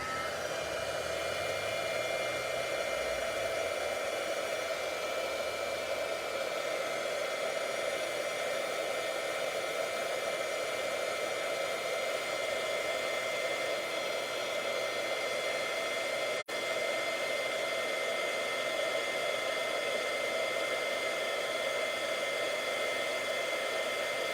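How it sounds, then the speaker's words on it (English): A heat embossing tool blows loud and steady for over twenty seconds while warming embossing powder on a stamped fall pop-up card, a constant whooshing hot-air roar with a brief click partway through. "we're gonna heat emboss, so it's gonna get a little bit loud for a minute while I get this heated up"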